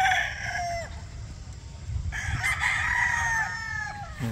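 An imported leopard hatch gamefowl rooster crows twice, close and fairly loud, the second crow longer, over a low background rumble.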